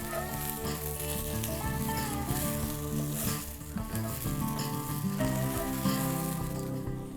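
Okra cooking in a pan over a low-medium flame gives a steady, even sizzle that runs throughout, while a louder tonal layer sits over it at moderate level.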